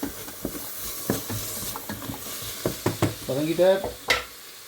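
Pumpkin and other vegetables are sautéed in a pan, with a spoon stirring and knocking in quick strokes over a steady, close sizzle that gets busier near the end. No one speaks.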